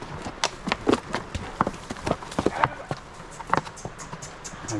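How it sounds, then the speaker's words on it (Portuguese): Irregular donkey hooves clop on hard ground, two animals walking close by on a trail, with scattered knocks and faint background noise, no clear talking. "Estão trazendo 2 burros lá pra pousada."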